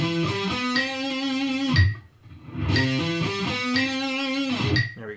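Sixteenth-note guitar arpeggio at 60 beats per minute, played with a distorted, effects-laden tone in a steady, continuous run that breaks briefly near two seconds and again near the end.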